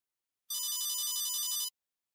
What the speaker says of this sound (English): Is that your cell phone?